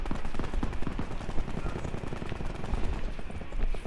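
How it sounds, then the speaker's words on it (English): Constant rapid gunfire in the video game Call of Duty Blackout, dense overlapping shots and automatic bursts filling the whole stretch, loud and continuous. "You guys getting shot at?"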